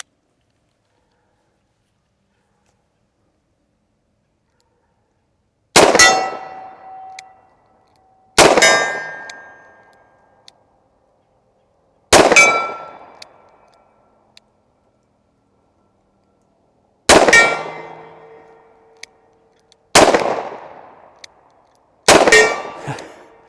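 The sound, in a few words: Smith and Wesson Model 29 revolver firing a cylinder at steel target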